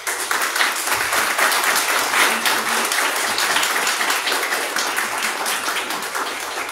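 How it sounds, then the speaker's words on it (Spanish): Strong, continuous applause from the audience at a children's parliament representatives event in Matamoros, Mexico, welcoming a participant; many hands clapping evenly and loudly for several seconds, with no talking on top. "Le damos la bienvenida y un aplauso fuerte a Montserrat Herrera Castillo."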